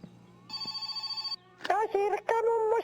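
A telephone rings in the video game My Summer Car, an electronic trilling ring that sounds once, followed by a second sound that is more voice-like or tonal. The ring is loud and close, with no speech over it.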